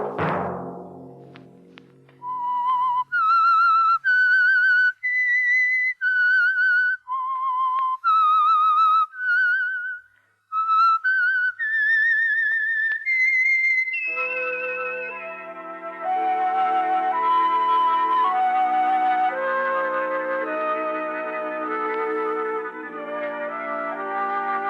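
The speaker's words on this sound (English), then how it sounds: "Let that whistle be your signal" A lone whistler performs a slow, eerie melodic tune, clear and close, before an orchestra takes over with a sustained musical passage.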